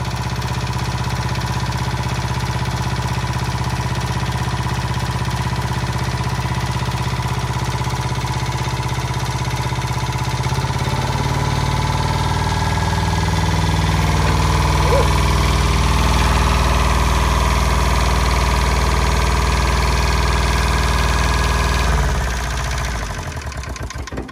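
A mini excavator engine idles roughly, then deepens and rises in level partway through as it runs up, a loud, close, vibrating drone that cuts off near the end.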